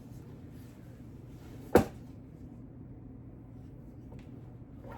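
A drawer holding red light therapy gear at home is opened or shut with a single sharp knock, heard once and fairly close against a quiet room hum.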